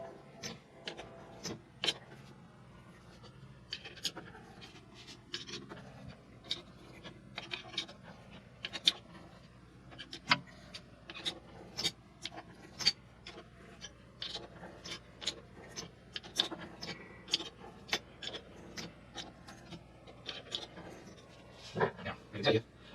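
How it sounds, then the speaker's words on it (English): A tap and die cut a thread on a metal rod, making repeated faint scratchy ticks and squeaks at an uneven rhythm against a quiet shop background. "And now we just need to thread it in."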